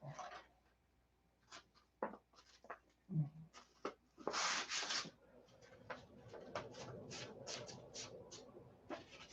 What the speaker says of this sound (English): So we're going to sand this down to 500.